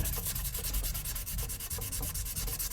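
Sandpaper scrubs a small spot on a tarnished saxophone in quick, steady back-and-forth strokes, close up and loud, with a rhythmic rasping and no voices.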